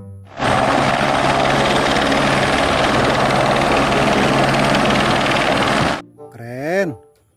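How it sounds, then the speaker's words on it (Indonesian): A loud, steady toy helicopter roar with beating rotor drone runs for about six seconds, then cuts off, followed by a short rising and falling whistle-like tone. "Helikopter."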